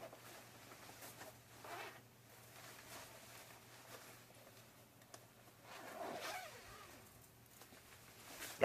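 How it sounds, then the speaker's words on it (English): Zippers on the removable liner of a Scorpion Hat Trick motorcycle jacket being undone, faint intermittent zipping rasps in short pulls against quiet room tone, no speech. "Now, let's go ahead and remove the air guard liner. Same concept as the Everheat. Zippers all the way around."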